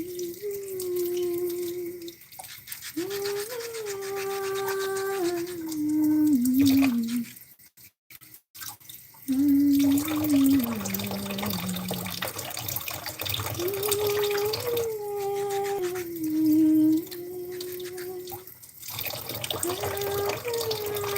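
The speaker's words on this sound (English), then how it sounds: "I am washing eggs. Lots and lots of eggs." A tap runs steadily while many eggs are washed at a homestead sink. The flowing water carries a whining, shifting tone and cuts out briefly a few times before resuming.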